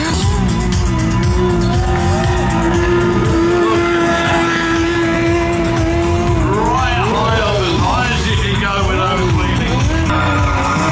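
Monster truck doing straddle wheelies at the UK Monster Truck Nationals, a loud revving engine whose pitch holds and then climbs and wavers, over crowd noise and voices.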